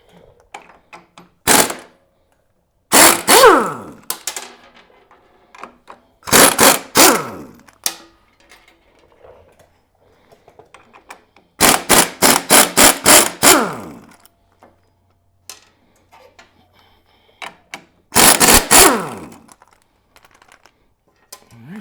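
Rear sprocket nuts being removed from a motorcycle during a rebuild of a wrecked bike: several loud bursts of rapid rattling hammering, each lasting a second or two, separated by quiet pauses, with faint clinks in between.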